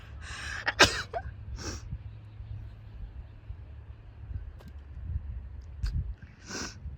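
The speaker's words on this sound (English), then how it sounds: "sun's making me sneeze." A sharp sneeze bursts out close by outdoors in the Whitsundays, brought on by the sun, followed by a few quieter breathy sniffs and gasps against a low background hum.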